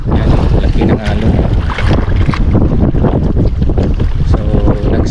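Heavy wind buffets a small fishing boat out on Panguil Bay while big waves crash and slosh against the hull, a loud, continuous roar with rushing water throughout.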